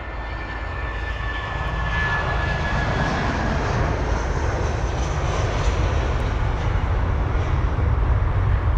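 A British Airways Airbus A319 jet, registration G-DBCB, departs London Heathrow bound for Berlin, its engines a loud, steady roar that holds without a break from start to finish.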